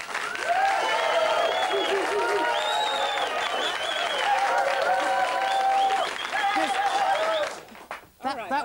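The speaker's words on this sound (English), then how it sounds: "Can we have applause from the audience for Salisbury, please?" TV studio audience applauding for Salisbury on a 1994 late-night chat show, a sustained loud wash of clapping with cheering and voices mixed in, fading out near the end.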